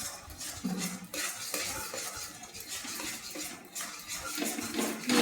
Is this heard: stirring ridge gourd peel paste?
yes